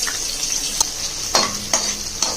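Curry leaves, with garlic, mustard seeds and onion, hiss in hot oil for a tamarind kuzhambu, a continuous bright sizzle with a few sharp crackling pops and a stir.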